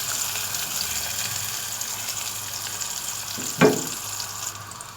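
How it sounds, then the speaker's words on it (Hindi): Sliced onions frying in a pan, stirred with a spoon: a steady, moderate hiss of sizzling oil with one brief spoon clink against the pan partway through. "अब हम इसको प्याज को स्पून से स्टीयर करेंगे।"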